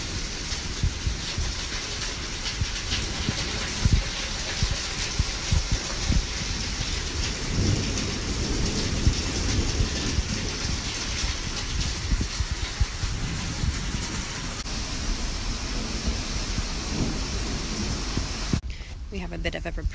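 Heavy rainstorm with steady, dense rain drumming on surfaces and low rumbles of thunder rolling underneath, a continuous loud wash of sound lasting throughout.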